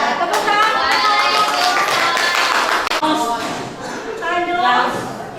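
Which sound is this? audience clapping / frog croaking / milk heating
audience clapping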